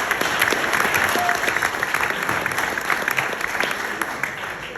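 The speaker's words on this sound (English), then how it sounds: "So how about a big round of applause for Camp Hope?" Audience at a charity golf tournament applauding, a dense, steady burst of clapping from a sizable crowd held for several seconds before thinning slightly.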